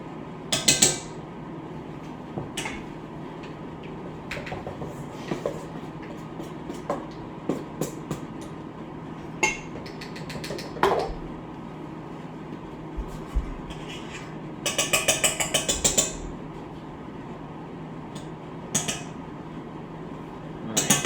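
A spatula scrapes and clinks around a mixing bowl of coffee cake batter in a quiet kitchen, giving scattered scrapes and a few louder clattering bursts, with no talking.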